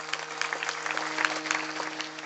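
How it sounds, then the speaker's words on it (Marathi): Audience applauding during a kirtan at a hari-nam saptah, a faint, steady patter of clapping from a crowd, heard through a thin sound system with a constant low hum beneath. "या जोडीसाठी एकदा मोकळ्या मनानं टाळी वाजवा."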